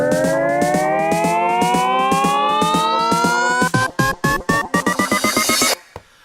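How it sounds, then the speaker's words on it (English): A synthesized tone sweeps steadily upward in pitch, building tension, then breaks into rapid rhythmic chopped stutters before stopping abruptly. "how to make that chopped riser sound from the YouTube video"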